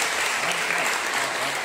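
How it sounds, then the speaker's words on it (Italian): Applause for a music teacher at a 2023 school recital, a dense steady wash of clapping from the audience filling the whole short stretch, with faint voices mixed in. "un applauso a Mirko!"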